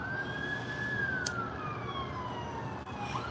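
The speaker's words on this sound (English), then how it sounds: "Here comes a police car." Police car siren in downtown Long Beach passing by, a loud sweeping wail that rises and falls steadily over steady road traffic noise.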